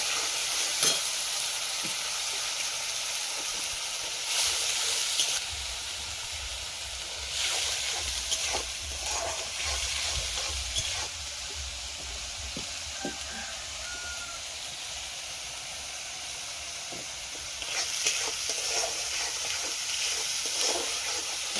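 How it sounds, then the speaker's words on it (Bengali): A paste of onion and green chili fries in hot oil, sizzling steadily in a pan, with louder bursts of hissing and scraping as it is stirred at intervals. "পেঁয়াজটা ভাজা ভাজা হয়ে গেছে"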